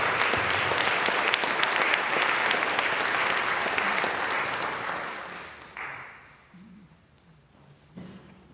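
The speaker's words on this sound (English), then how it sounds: "Let's give a round of applause for Sylvia." A gathered audience at a celebration of life memorial applauds with steady, dense clapping that fades out toward the end.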